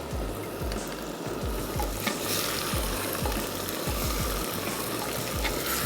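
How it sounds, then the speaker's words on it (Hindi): Chicken frying with onions in a pan, a steady dense sizzle with rhythmic stirring scrapes throughout, close and continuous with no talking. "चलें अब अच्छा सा प्याज पे क्योंकि कलर आ चुका है तो मैं इसमें ऐड कर देती हूँ ये चिकन और इसको हम थोड़ा सा पकाएंगे"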